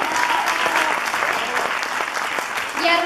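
Seminar audience gives a big round of applause, a dense, sustained clapping from a crowd with a voice talking over it near the end.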